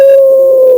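A single sustained howl, loud and close, holding one steady pitch for under a second before dipping slightly at the end, with no other sound around it; it may be a dog's howl or a voice imitating one.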